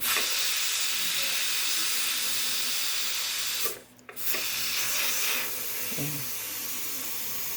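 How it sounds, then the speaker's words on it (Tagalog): Steady, loud broadband hiss of steam venting from a pressure cooker, briefly cutting out midway before resuming, with no talking. "Para sumingaw na yung natirang init. Yung pressure."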